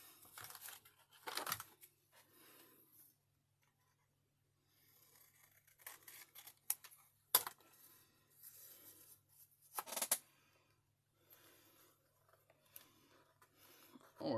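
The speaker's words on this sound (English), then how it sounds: "Big scissors." Big scissors cut Catalyst art papers in a quiet room: a few separate crisp snips and rustles spaced apart, with stretches of near silence and light paper handling between them.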